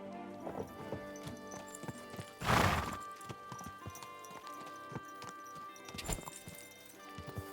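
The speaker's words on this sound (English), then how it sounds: "Your horse nearly trampled me!" A horse's hooves clip-clop in a steady rhythm close by, with a loud burst of movement in the middle and a whinny among the hoofbeats.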